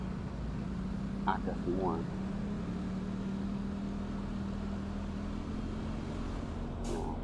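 Busy road traffic near Pulogadung with motorbikes, cars and buses passing as a steady low rumble and engine hum, heard from close by, with a person speaking briefly over it.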